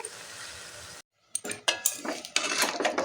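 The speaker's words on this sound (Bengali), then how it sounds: "এবার আমি নাড়িয়ে নেব" Tamarind pickle is stirred in a pan after a brief silence, with a series of metal spoon knocks and scrapes against the pan that come in uneven bursts, close and moderately loud.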